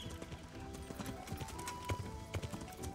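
Horse hooves clip-clop in a video game, a quick run of muffled, layered hoof beats over a low rumbling background, close and continuous for a few seconds.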